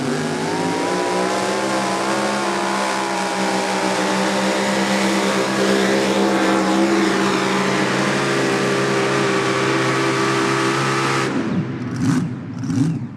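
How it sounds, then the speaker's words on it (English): A super modified pulling tractor makes a full run at a Hillsboro, Wisconsin pull, its engine a sustained loud, droning roar with steady harmonics that holds for many seconds before cutting off abruptly into quieter sputters. "Love the name of this tractor as Jeff Guzik comes up here"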